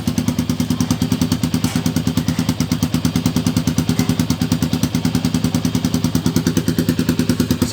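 A Motorstar Cafe 400 motorcycle idles steadily at night, its engine close and loud with a fast, even thumping pulse and mechanical clatter running unbroken throughout.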